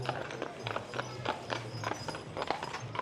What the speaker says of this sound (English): The horse is catching up on me